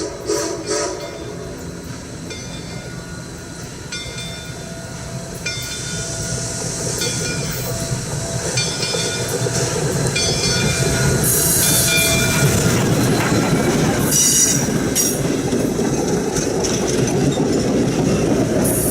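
Train #142 of the Delaware River Railroad shoves back toward Phillipsburg on a Fourth of July weekend, its heavy rumble and clickety-clack of wheels swelling steadily louder as it nears, with a brief horn-like tone partway through.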